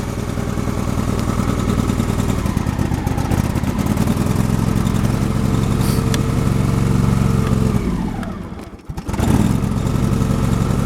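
An old engine running on choke just after starting, a loud steady mechanical chugging close by that briefly dips and stumbles near the end before picking back up.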